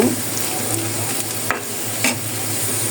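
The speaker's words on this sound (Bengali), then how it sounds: "যদি আপনারা এভাবে ভেজে নেন তাহলে কাঁচা পেঁয়াজের গন্ধটা আসবে না" Onion and potato frying in oil for a fish curry give a steady, loud, close sizzle throughout, with a couple of brief scraping stirs over it.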